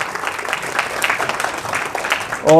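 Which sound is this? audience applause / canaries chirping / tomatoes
audience applause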